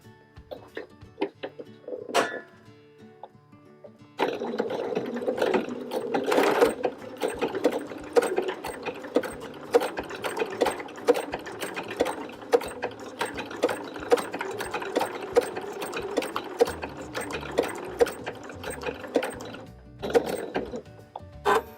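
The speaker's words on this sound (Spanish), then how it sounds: "Yo en esta ocasión voy a dar un festón a máquina." A sewing machine sews a blanket stitch along an edge. After a few short starts, it settles into a long, steady run of rapid mechanical clatter before stopping and giving one final brief burst.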